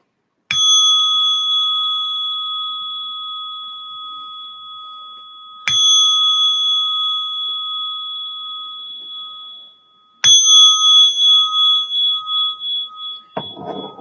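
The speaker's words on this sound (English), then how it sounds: "let's invite the bell to ring for a minute" A meditation bell opening a Zen evening talk is struck three times, each ring clear, loud and close, sustaining and slowly fading, with the last ring pulsing as it decays. Nobody speaks.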